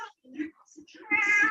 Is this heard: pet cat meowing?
yes